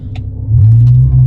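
A BMW M5 E60 launching from a stop in race mode, first gear: a loud, low engine rumble swells and holds, with a few faint clicks before it.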